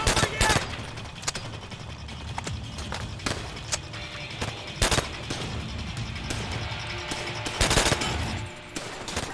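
Gunfire in the video game Call of Duty: World at War, sharp repeated bursts and single cracks that punch out over a continuous layer of battle noise, loud and near throughout.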